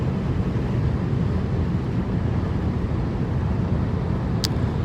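Steady broadband road and wind roar inside a 2006 Honda Accord LX cruising on a freeway at high speed straight into a headwind, continuous and even throughout with no talking.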